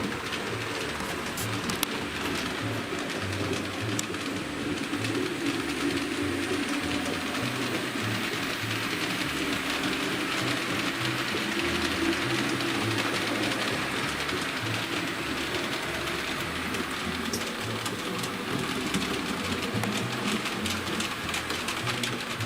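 A model train locomotive runs with a steady mechanical grinding and whirring that continues without a break, close and moderately loud, with faint talk in the background.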